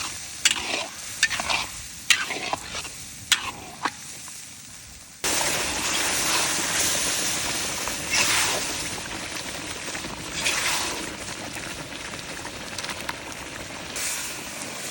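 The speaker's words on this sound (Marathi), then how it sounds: "मसाला व्यवस्थित मिक्स करून घेऊ बिहारी स्टाईलचा।" Bihari-style masala with goat eyes stirred and fried in a pan: a run of separate spoon taps and scrapes, then a sudden loud steady sizzle with stirring scrapes over it, close up.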